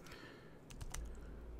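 Computer keyboard being typed on while entering a command in the Windows command prompt: a short run of quick, faint keystrokes over quiet background hiss.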